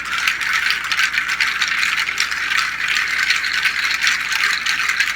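A Latin American percussion rattle made from natural seed pods shakes continuously, giving a dense, bright, steady rustling clatter at close range with no talking.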